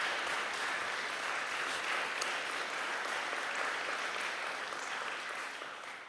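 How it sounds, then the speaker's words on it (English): A large audience gives a round of sustained, dense applause at a live-streamed gathering. The clapping stays steady and loud for about five seconds, then begins to taper off near the end. "a round of applause."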